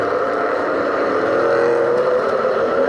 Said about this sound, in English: that's everybody else's engine you can hear